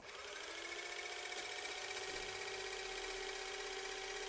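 A power drill runs steadily and continuously at close range, its whine holding an even pitch throughout, used on a car's automatic transmission service where the fluid has gone muddy after 50,000 kilometres.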